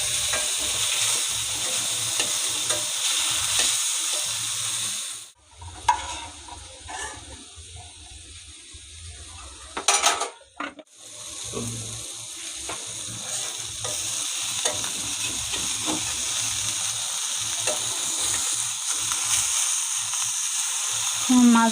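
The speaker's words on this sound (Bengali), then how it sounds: "কম তেলে আমার মাছ ভাজা হয়ে গেল" Fish frying in a little oil in a wok, a continuous crackling sizzle with stirring, broken by a brief quiet gap and a clatter midway, then resuming steadily.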